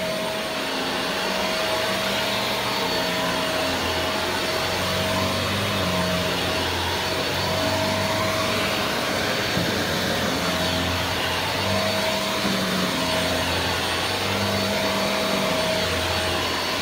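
A Shark Rotator Speed NV681 vacuum cleaner runs steadily and loudly for the whole stretch, a constant motor whine with a thin high tone and a low rumble, no voices over it.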